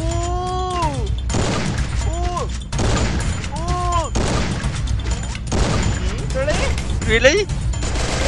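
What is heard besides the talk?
gunfire in the video game Free Fire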